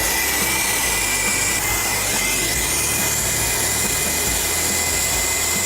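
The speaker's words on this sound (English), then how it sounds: "You want to weld or put your flame on the outer pipe and get it nice and hot." A brazing torch flame heats copper refrigerator tubing during a sealed-system leak repair on a SubZero heat exchanger. A steady, close, loud roaring hiss holds without a break from start to finish.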